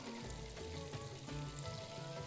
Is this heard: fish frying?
yes